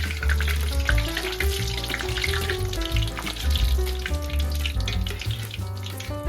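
Pork cutlets for tonkatsu deep-fry in hot oil during a second, higher-temperature fry, a loud, dense, steady sizzle and crackle with soft music underneath.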